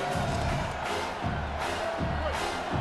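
Stadium crowd noise from EA Sports College Football 27, a game against Mississippi State: a steady, loud roar of fans with light cheering swells running through the whole stretch.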